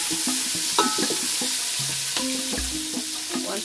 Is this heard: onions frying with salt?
yes